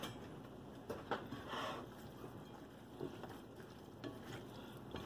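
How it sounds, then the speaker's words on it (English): Black beans going into a pan of breakfast burrito filling, then stirred with a spatula, giving a steady low sizzling rustle punctuated by a few soft scraping clicks, close and alone with no talking. "I'm going to add my black beans."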